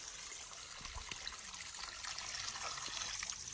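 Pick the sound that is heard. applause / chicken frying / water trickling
water trickling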